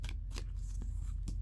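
Tarot cards riffled and shuffled by hand in several short papery bursts, close and fairly quiet, with a low steady hum beneath.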